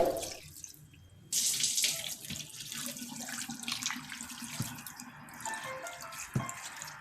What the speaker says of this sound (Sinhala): වතුර එකතු කරගන්නවා